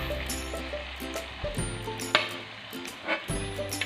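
Onion, tomato and capsicum hit a hot pan of chicken for restaurant-style chicken jalfrezi, giving a steady sizzle with a few clinks and stirring scrapes throughout.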